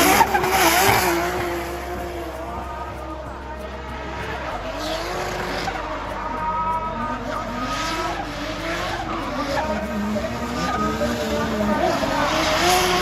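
Nissan C33 Laurel drift car at D1GP Ebisu South beginning its qualifying run: engine revving and tires squealing at a distance, a sustained, wavering roar over the whole stretch with a steady background hum.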